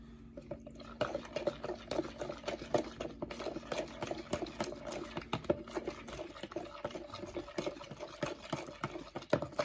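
Seasoning mix being stirred into water, a quiet, close sequence of rapid irregular clinks and scrapes with faint liquid sloshing, continuing steadily throughout.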